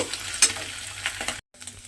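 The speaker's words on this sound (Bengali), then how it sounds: "একেবারে ঝুড়ো ঝুড়ো করে ডিমটা ভালোভাবে ভেজে নেব" Beaten egg being stirred and broken into crumbly scrambled bits in a hot pan, a loud, close sizzle with scraping stir strokes, briefly cut off near the end before resuming.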